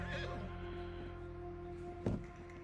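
A horse in Red Dead Online gives a long whinny at the start, followed by soft game ambience and a brief thud, with no talking over it.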